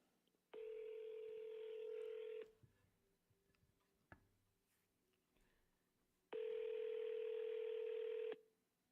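Two long steady telephone tones sound alone at a moderate level, each lasting about two seconds and separated by a quiet gap, like dial or keypad tones on a phone line.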